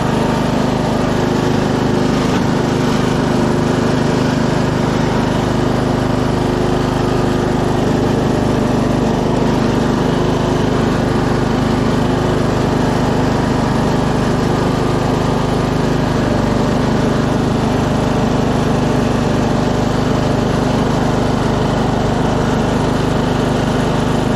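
Scotts 15/42 lawn tractor engine running at a steady idle just after starting, a loud, close, continuous small-engine drone with no talk over it.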